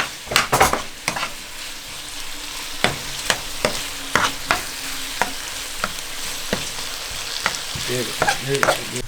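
Food fries in a pan while someone stirs it: a continuous sizzle with a spoon or spatula scraping and knocking against the pan in irregular strokes, close and fairly loud.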